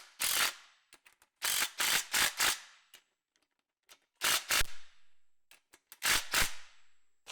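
A hand ratchet spins bolts fitted with new lock washers down on a 134ci Willys Jeep Hurricane engine, in three close bursts of sharp, rapid clicking with short pauses between them.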